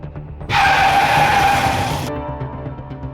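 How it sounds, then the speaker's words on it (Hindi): A car brakes hard to a stop, its tyres letting out a loud, sustained squeal for about a second and a half that cuts off abruptly, with quieter background sound continuing after. "गिरीश, मैंने कहा गाड़ी रोको। Stop the car."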